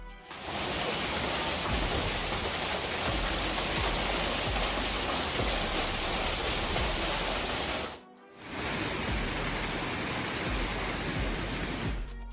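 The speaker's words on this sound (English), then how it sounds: "when hail and storms mixed together, it was unbelievable" A hailstorm with rain in South Dakota sounds as a dense, loud, continuous roar of pelting ice and water, broken by one brief gap before it resumes just as heavily.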